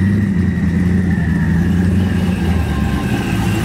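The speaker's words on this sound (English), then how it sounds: "That car sounds insane." A deep, steady engine rumble from a twin-turbo Camaro at a car meet, loud and close, holding a constant throaty drone without breaks.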